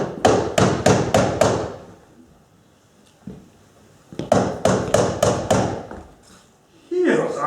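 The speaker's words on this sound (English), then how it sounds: "Here's a knocking indeed." Two bursts of rapid, heavy knocking on a door, each five or six close thuds, separated by a quiet gap with a single stray thump, then a voice starts speaking at the end.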